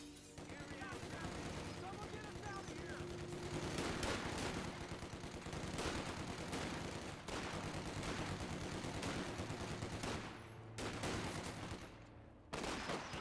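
Grenadier squads fire from heavy cover in Company of Heroes 2, a dense continuous stream of rifle and machine-gun fire mixed with booms from a busy battlefield.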